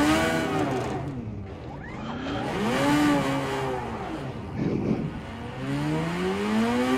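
A McLaren race car in a VR racing game whines through gear changes with rising and falling engine tones, tires squealing and a rough scraping burst midway as cars collide, loud and continuous.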